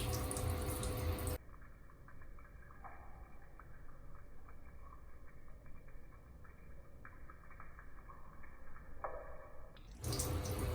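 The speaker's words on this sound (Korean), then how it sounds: "물이 손등에는 다다다닥 떨어졌잖아." Water from a tap splashes and patters steadily onto the back of a hand for several seconds, close by, with a brief louder burst at the start and end.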